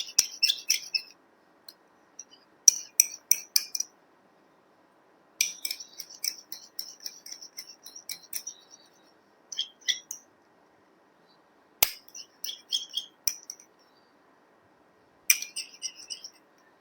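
A spoon stirs a homemade moisturizer mixture in a small container, giving repeated bursts of light, high-pitched clinks and scrapes separated by short pauses, close and fairly quiet.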